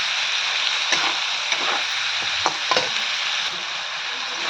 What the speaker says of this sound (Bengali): পেস্ট দিয়ে কিছুটা নেড়ে নেব খানিকক্ষণ।